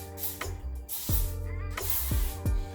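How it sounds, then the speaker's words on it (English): A handheld mist sprayer spritzes water onto hair in mini twists, several quick soft hissing bursts sounding close and fairly loud, with no talking. "I'm just gonna go ahead and spritz my hair with my mist sprayer"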